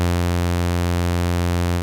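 Bright, buzzy saw wave from a wavetable synth, one sustained low note rich in stacked harmonics, steady and loud with no other sound.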